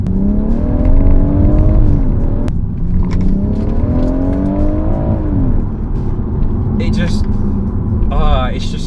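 A BMW M140i with its B58 engine accelerates in strong, rising revving sweeps, climbing in two long pulls with a brief shift between them, loud and close throughout, with talk mixed in.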